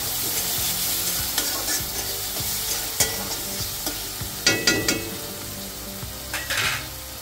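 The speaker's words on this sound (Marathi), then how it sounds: "आता हे सर्व मिश्रण छान हलवून घ्यायचं" A sizzling mixture containing soaked moong dal is stirred in a pan while making red amaranth bhaji. The steady frying hiss is punctuated by scraping and clinking spatula strokes against the metal.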